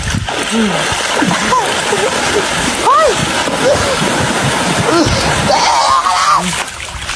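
Water splashes repeatedly in a playful water fight, mixed with shrieks, laughter and excited voices throughout.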